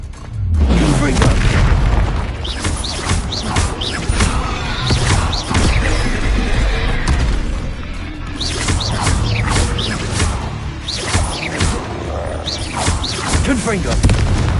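Repeated booming spell explosions from a video game, loud and dense across the whole stretch, with blasts overlapping one another and voices heard among them.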